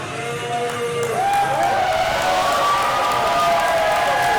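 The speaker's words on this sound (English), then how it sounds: "This Fayetteville crowd at Monsters and Men firmly behind Kirk Castle." Loud, sustained cheering and applause from a Fayetteville wrestling crowd backing Kirk Castle at a WCWA show, with shouts and whistles rising throughout.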